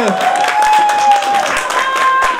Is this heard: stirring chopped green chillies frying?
no